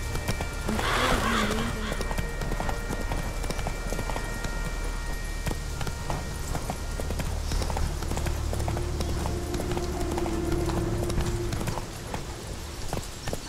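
Geralt's horse Roach gallops in The Witcher 3, rapid rhythmic hoofbeats pounding steadily up close, with a brief whinny near the start and game ambience underneath.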